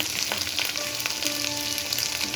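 Ground red chilli spice paste fries in a pan with a little water, giving a steady, close sizzle with scattered crackles and pops throughout, with no voices.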